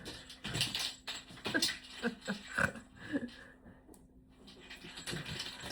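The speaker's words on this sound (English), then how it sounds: "Sorry if you don't appreciate the noise of the dog playing with its toy, but Miss Daisy likes to let herself be know" A small dog plays with a squeaky toy indoors, giving a scatter of faint squeaks, snuffles and soft patters close by at low level, with no talk over it.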